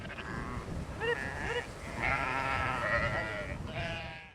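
Sheep bleat in pasture pens on a sustainable farm, several wavering cries overlapping fairly close and loud across the stretch, with no talk over them.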